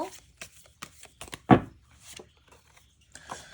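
Tarot cards being drawn and turned over on a table, with soft papery slides and light taps followed by one sharper slap as a card is laid down, all close and quiet.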